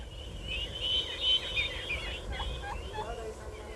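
Turkeys kept by village children gobble at overgrown, neglected royal tombs in Vietnam, a rolling burst of calls over a low outdoor background hum, moderately distant.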